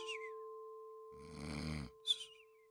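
Playful snoring on command in a children's Sesame Street game: a single drawn-out, rumbling snore imitated by a voice, set against a steady tonal hum, with brief high squeaky vocal sounds before and after.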